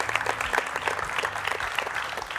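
An audience claps steadily for a headmistress at a lively family show, the dense applause continuing loud and even throughout.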